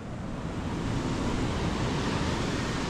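Sea waves wash onto the shore in a steady, loud broadband roar, with some wind against the microphone and no voices.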